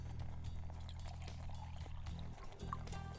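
Water being poured into a pot of condensed canned soup during camp cooking, a short, quiet liquid splashing and trickling over a low steady hum, close and faint.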